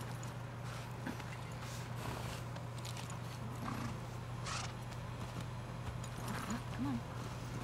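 Steady horse hooves clip-clop at a walking pace while riding in The Last of Us Part II, over a constant low game hum, with faint voices talking at times.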